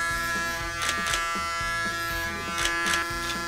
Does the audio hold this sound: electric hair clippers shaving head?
yes